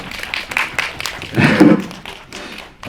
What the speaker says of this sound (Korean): 우리 다 같이 박수 한번.